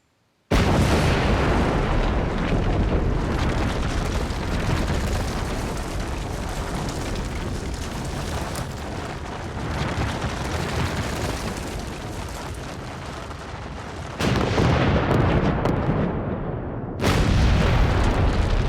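Explosive blasting shots at a West Virginia coal mine: a sustained, loud roaring rumble that fills the space, with a sudden surge in intensity near the end and no voices.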